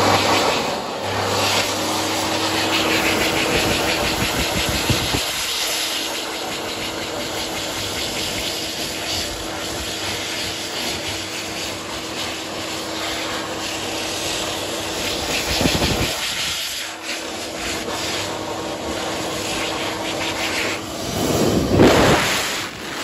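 A loud, continuous World Dryer Model A electric hand dryer blows with a roaring whoosh and a steady motor hum in a small room, stopping and restarting briefly twice.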